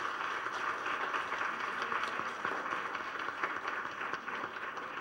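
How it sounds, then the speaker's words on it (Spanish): An audience at a school debate contest applauds two participants, a steady wash of many hands clapping for several seconds at moderate volume. "Un fuerte aplauso para los dos."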